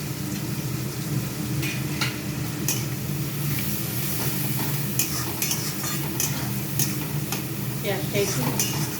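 Onion with nigella seeds fries in a pan under a steady low sizzle, with a spatula scraping and clinking against the metal at close range, and no voices.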